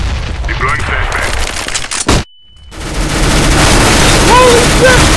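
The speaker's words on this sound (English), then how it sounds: "Grenade out. Deploying flashbang." A flashbang grenade and gunfire in the video game CS:GO, with sharp cracking shots, a loud bang, a sudden dropout to near silence, then the action returning loudly with a high ringing tone and other noise.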